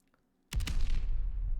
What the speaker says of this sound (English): Gunshots going down, and Evan will pick up the trade.